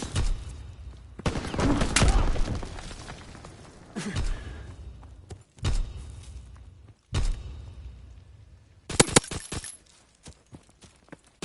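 Bursts of gunfire from the video game Call of Duty WWII come in several loud volleys with short gaps between them, mixed with booming impacts and battle noise.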